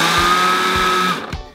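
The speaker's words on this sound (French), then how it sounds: "pour pouvoir mixer encore plus finement la citronnelle" Close, loud blender whirring steadily as it finely purées lemongrass for a homemade chicken curry, motor droning for about a second before cutting off with a brief rattle as it winds down.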